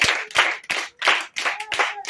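Church congregation clapping during a sermon, in loud rhythmic bursts of about six claps over two seconds, with no talk over them.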